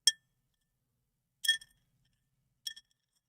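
A gold nugget clinks sharply in a wet gold pan three times, each bright metallic tap followed by a short rattle, separated by quiet pauses.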